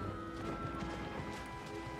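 Horse hooves galloping in the video game Shadow of the Colossus, a steady, quiet, rhythmic clatter under a low ambient music bed.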